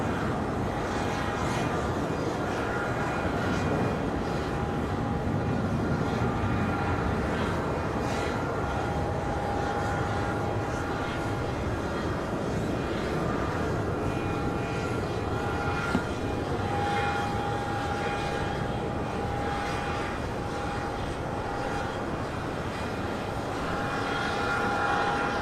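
Airliner on approach to runway 36 left at Charlotte Douglas airport on a windy day, a steady loud jet engine roar held throughout with a faint tonal whine, wind noise mixed in.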